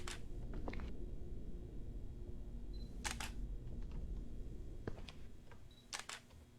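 Camera shutter clicks in the horror game Dark Fracture, a morgue scene: several sharp, bright snaps spread across the stretch over a low steady ambient hum, fairly quiet overall.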